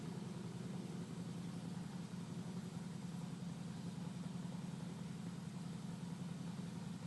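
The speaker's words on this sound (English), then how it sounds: "Neighbor's got his motorcycle up." A neighbor's motorcycle engine idles in a steady, low, even rumble, faint and distant, running without a break.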